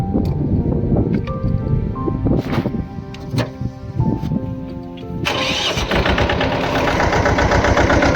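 A 24 hp farm tractor engine runs steadily on a field, a continuous mechanical drone that grows louder and rougher partway through, with no talk.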